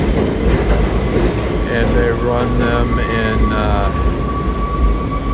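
An R46 subway train runs underground on a Brooklyn-Manhattan BMT line, giving a steady loud rumble and rattle with wheel squeal tones throughout while someone talks over it.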